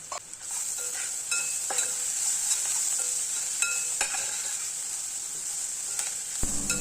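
Onions stirred as they fry in a pan, a soft steady sizzle with several distinct scraping and tapping strokes of a spoon spread across the clip.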